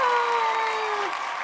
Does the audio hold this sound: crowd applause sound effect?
yes